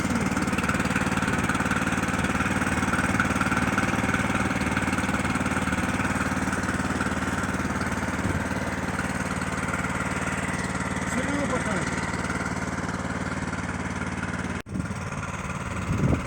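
A Neva walk-behind tractor engine runs steadily nearby at a constant throbbing pace, its drone holding even for the whole stretch with a brief dropout near the end, some faint background sound mixed in.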